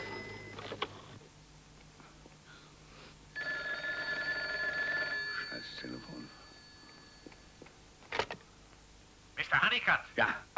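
A telephone rings in a German film, a steady electronic bell tone lasting a few seconds at moderate level, with background voices and scattered bumps and footsteps around it.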